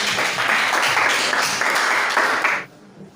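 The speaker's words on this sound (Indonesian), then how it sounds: "Oke, tepuk tangan untuk Aisyah" A classroom of students claps for a classmate, a dense burst of applause that stays steady for over two seconds before stopping abruptly, leaving quiet room tone.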